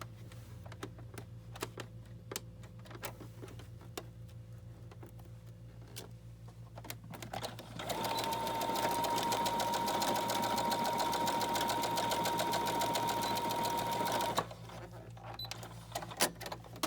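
A sewing machine stitches fabric for a flip on an accordion journal, running steadily at close range for several seconds after a stretch of light handling clicks and small taps.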